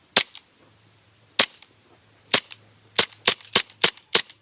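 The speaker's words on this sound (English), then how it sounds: "Snappy. It actually sounds really cool for an airsoft gun." Heckler & Koch airsoft pistol firing about nine sharp, snappy shots, a single pop then irregular spacing and a quicker run near the end, close and clear with no talking.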